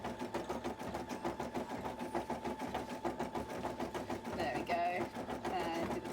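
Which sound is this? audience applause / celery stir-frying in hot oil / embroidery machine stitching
embroidery machine stitching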